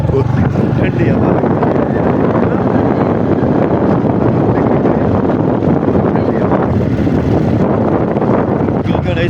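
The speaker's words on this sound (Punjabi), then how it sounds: "ਠੰਡੀ ਹਵਾ" Cold wind gusts steadily across an open village field in Punjab, roaring into the microphone as a constant loud rush that covers the whole stretch.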